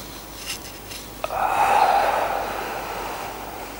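During a relaxation exercise, one deep audible breath draws in after a small click, a soft breathy rush that swells and slowly fades over a couple of seconds, close to the microphone.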